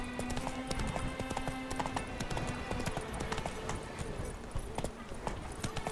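Video-game horse Roach gallops with rapid, steady clip-clop hoofbeats, close and continuous throughout, with busy game effects layered around them.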